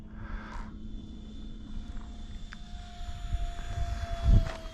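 A DEERC F-35 FX9635 RC airplane performs 3D flying outdoors, its motor giving a steady high whine with slowly shifting pitch over constant wind and handling noise, swelling louder near the end.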